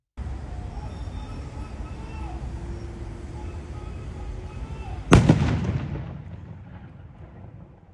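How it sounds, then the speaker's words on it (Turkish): A low background hum and murmur suddenly broken by a single sharp, loud blast as a suspicious suitcase is detonated with a detonator, followed by a rumbling decay that fades over a few seconds. "bomba imha uzmanı, yaptığı incelemenin ardından valizi fünyeyle kontrollü şekilde patlattı."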